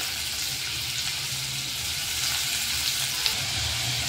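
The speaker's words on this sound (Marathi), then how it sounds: "आता आपण यामध्ये कांदा घालून घ्यायचा आहे।" Chopped onion frying in hot oil for a quick omelette Maggi, a steady close sizzle with no voices.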